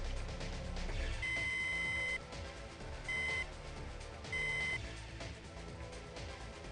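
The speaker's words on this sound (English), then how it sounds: "sometimes they'll run over and activate alarms" Electronic alarm in the video game Crusader: No Remorse, tripped by fleeing civilians: three bursts of steady high-pitched beeping over busy, dense game music and effects, clear and moderately loud.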